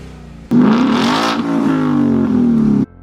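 A car fitted with an aftermarket axle-back exhaust gives one loud, sustained rev lasting a little over two seconds, close up and alone, starting and stopping sharply.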